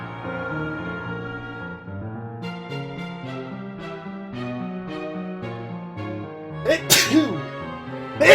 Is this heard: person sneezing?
yes